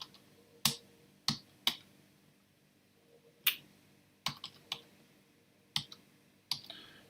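Someone types on a computer keyboard in sharp, irregular clicks and short bursts of keystrokes with pauses between them, close up and fairly quiet in a still room.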